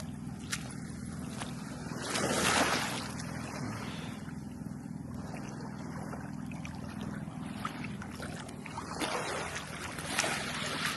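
A boat's engine drones steadily over open sea off Dingalan, Aurora, with wind and lapping waves around it; no voices, just continuous motor and sea noise throughout.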